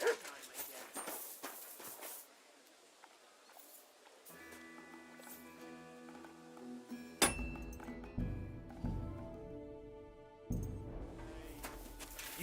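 Dog barking in the medieval video game Kingdom Come: Deliverance II, a few sharp barks early on, followed by clinking and ambient music with scattered game sounds.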